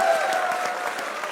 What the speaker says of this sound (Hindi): मोहम्मद आमिर के लिए तालियां।